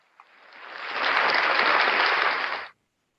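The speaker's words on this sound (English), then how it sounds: "let's give her a big applause" An audience applauds after a presentation at an academic research conference, the clapping swelling over about a second into a dense, steady burst, then stopping abruptly.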